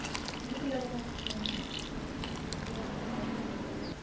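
Tamarind water pours steadily into a pot for several seconds with faint dripping and splashing, close by, continuous and moderately loud.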